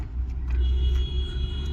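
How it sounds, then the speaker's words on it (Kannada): A Bajaj BS6 CNG auto rickshaw engine runs with a steady, low, close rumble, holding an even idle throughout with no other sounds over it. "ನೋಡಿ, ಈ ಥರ ವಾಲ್ ಓಪನ್ ಮಾಡಿಕೊಂಡು ಗಾಡಿ ಸ್ಟಾರ್ಟ್ ಮಾಡ್ಕೊಳ್ಳಿ."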